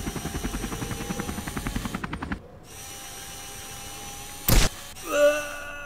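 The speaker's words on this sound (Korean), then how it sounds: "미니 헬리콥터" Mini helicopter in the Henry Stickmin video game, a fast, even rotor chop lasting about two seconds before cutting out, followed by brief scattered game effects.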